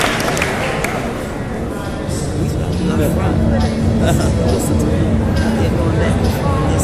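Dense crowd chatter and babble fill an outdoor rally, many voices overlapping in a constant loud hubbub with no single voice standing out.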